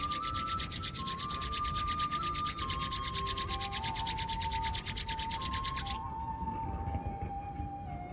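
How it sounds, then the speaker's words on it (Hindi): Two palms rub briskly together for about six seconds, a fast rhythmic dry friction that then stops, with soft sustained tonal music underneath. "अपने दोनों हाथों को रब करेंगे आंखों पे।"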